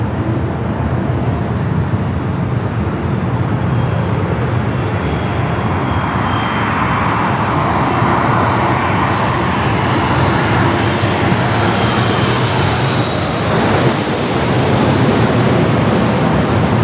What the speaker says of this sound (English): We'll be heading down here to the 27 for a takeoff very shortly.